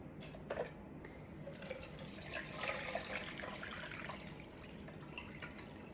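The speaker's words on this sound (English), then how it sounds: "So that's got most of the juices dripping through" Oxymel juices drip and trickle through cheesecloth into a funnel, a soft, quiet patter of liquid with a few louder splashy moments, heard alone and close.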